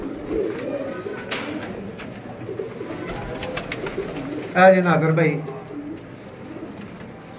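Sialkoti rooftop pigeons coo close by, with soft murmurs followed by a clearer burst of throaty cooing. Someone talks over the birds.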